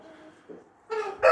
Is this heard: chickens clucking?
yes